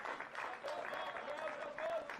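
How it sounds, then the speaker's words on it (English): At a First Division football match between Wexford and Athlone Town, a crowd applauds in a steady patter, moderately distant, while a commentator talks over it throughout. "he's getting an applause of appreciation"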